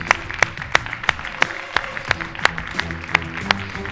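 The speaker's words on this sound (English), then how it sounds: "give them a big round of applause" An audience at a panel event claps for the speakers, with sparse, distinct handclaps spaced out over a few seconds rather than a full ovation.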